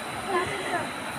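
The Tarzan river flows with a steady broadband rush like a waterfall or stream. A voice is faintly heard over the water.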